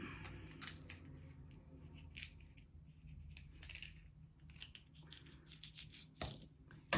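Scissors snip open a dried pepper to get at the seeds, giving quiet close crisp cuts and small rustles spaced irregularly, ending in a sharper click.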